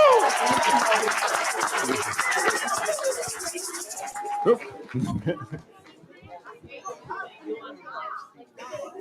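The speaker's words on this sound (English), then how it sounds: "One more applause for them, guys." An audience at a spiritist symposium breaks into dense applause that fades out after about four seconds, leaving scattered claps, murmuring and chatter in the hall.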